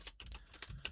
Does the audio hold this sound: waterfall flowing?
no